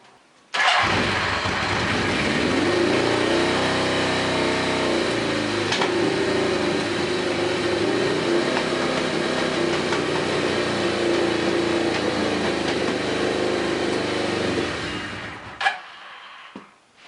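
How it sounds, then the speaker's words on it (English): A Suzuki GS850 motorcycle with no air box and the choke held open runs in a loud, steady, rough idle close by for about fifteen seconds, then cuts off with a brief sputter. "I'm having to hold the choke open, but it is running"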